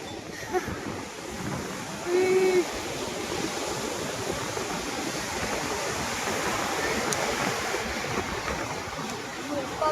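Wind-blown ocean surf at a beach in Chennai, a steady broadband wash of waves with heavy wind buffeting the microphone and a brief voice near the start.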